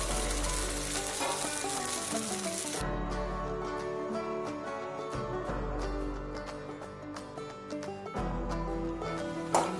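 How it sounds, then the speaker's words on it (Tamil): Herbs and betel leaves frying in sesame oil over a low simmer for a medicinal herbal kuzhambu, giving a steady soft crackling sizzle with faint clinks, quite close and without any talk. "இப்போ எடுத்து வச்சுருக்க இந்த பொருள்கள் எல்லாத்தையும் எண்ணெய் ஊற்றி வதக்கி எடுத்துகிட்டு வந்துடுவோம்"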